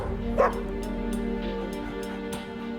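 A dog in a frozen winter wilderness gives a short yip and soft whimpering whines, close by over a steady low wind-like hum.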